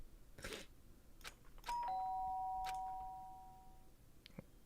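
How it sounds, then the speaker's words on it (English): A doorbell chime rings once in the video game Danganronpa Trigger Happy Havoc, two clear sustained tones that ring out and fade over a couple of seconds, with faint game sounds around it. "did I hear the doorbell?"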